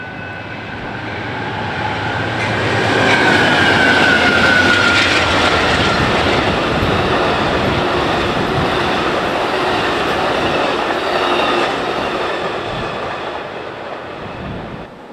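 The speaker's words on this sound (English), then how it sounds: "The Southwest Chief also runs the line and is only 5 minutes behind the slightly delayed California Zephyr." Passenger trains such as the Southwest Chief and California Zephyr pass on a busy BNSF double-track main line, producing a loud, sustained rumble and roar that swells, holds and slowly fades, with a faint horn-like tone early on.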